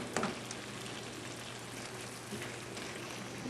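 Caponata, an eggplant dish, simmering on low in a skillet, giving a steady soft sizzle and bubbling at close range with no talk.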